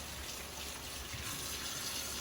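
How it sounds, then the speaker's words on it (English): A tap runs at a sink during handwashing, a faint, steady splashing stream with no speech. "the first step is to wash your hands right here"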